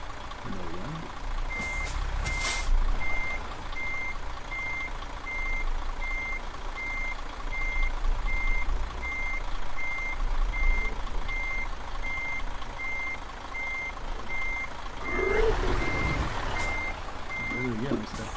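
A truck backing up in American Truck Simulator, its reversing alarm beeping in a steady evenly spaced rhythm over a low diesel engine drone, with a brief hiss of air brakes near the end.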